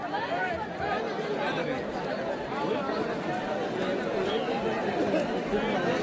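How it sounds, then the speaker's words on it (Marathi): A dense crowd at a palanquin procession fills the air with continuous overlapping chatter and babble, steady and close, with no single voice standing out. "गर्दी बघा किती वाढले."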